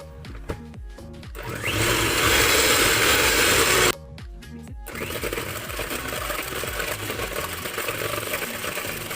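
Electric mixer beating apple cake batter with cinnamon, a steady loud motor whir that starts and stops in short bursts, runs continuously for a couple of seconds, pauses briefly, then resumes at a slightly lower level.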